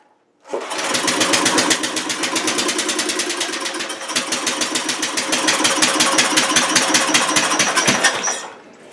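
An old Snapper lawn mower engine, choked, catches and runs: a rapid, steady, loud putter of small-engine firing pulses that continues evenly for several seconds before cutting off.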